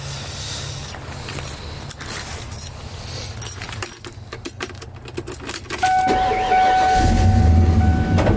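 Keys jingle, then a truck engine cranks over and catches, settling into a loud, steady idling rumble close by.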